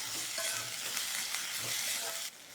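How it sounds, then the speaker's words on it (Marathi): Finely chopped onion frying in hot oil with mustard seeds and cumin, a steady close sizzle with stirring scrapes, cutting off sharply near the end; no talking. "कांदा चांगला परतून घ्यायचा आपल्याला"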